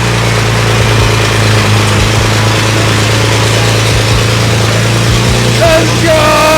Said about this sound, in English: This is my 335i. This is a big old single turbo, and this is the first startup.